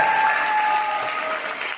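Sustained audience clapping at a motivational speech, dense and even throughout, fairly close and loud with no voices over it.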